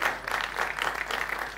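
An audience at a Marathi film trailer launch applauds producers, sustained dense clapping from a crowd at moderate loudness.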